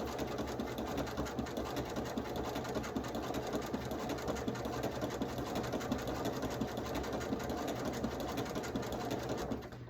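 A sewing machine runs steadily and continuously as it stitches quilt fabric, its fast mechanical whir holding an even level from start to finish, with no talking.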